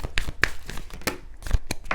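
Tarot cards being shuffled by hand in quick riffling bursts, a few sharp papery flutters and slaps close to the mic with brief gaps between them, no voices.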